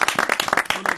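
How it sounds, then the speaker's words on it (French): An audience breaks into applause: a brief, dense patter of many hands clapping at once, fairly close and steady across the short moment. "Ah, voilà, on peut applaudir quand même."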